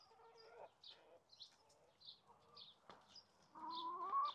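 Chickens clucking nearby in a backyard garden, soft irregular clucks and short murmuring calls at low volume, ending in a louder, more drawn-out cackle.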